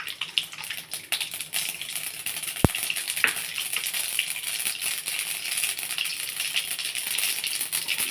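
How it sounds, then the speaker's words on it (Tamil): Mustard seeds hit hot oil in a kadai with a steady hissing splutter and a scatter of small pops and rattling crackles, close by, plus one sharp clack partway through. "இப்போ கடுகு போட்டுக்கலாம்."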